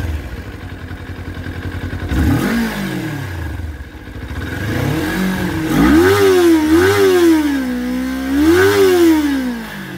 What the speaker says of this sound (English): once you rev it up, I kind of like the sound at higher RPM